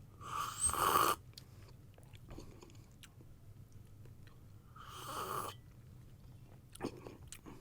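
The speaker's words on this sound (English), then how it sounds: "So it is still very, very warm, but mind the slurping." Two loud slurps of hot Hartmann Maragogype coffee from Phil & Sebastian, each a brief airy sip about four seconds apart, close up with quiet pauses between.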